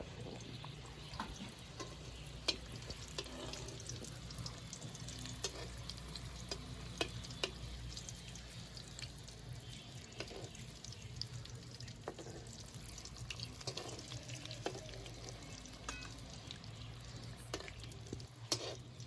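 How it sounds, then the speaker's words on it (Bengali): Mutton keema papad rolls fry in hot oil with a steady, continuous sizzle, gently stirred now and then with a spatula, faint scraping clicks scattered over the even bubbling hiss. "এই খুন্তিটা দিয়ে কিন্তু আমি আলতো ভাবে নাড়ছি"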